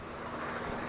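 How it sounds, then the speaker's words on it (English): Steady road traffic rumble from cars on a street, with a bicycle rider nearby, a continuous moderate wash of engine and tyre noise with no talk over it. "God, I've got traffic."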